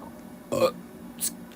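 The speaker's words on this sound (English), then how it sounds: "Oh no, Broby burped." A short burp from a character in a Roblox parkour obby game, one clear belch followed by a brief faint second sound, quiet surroundings.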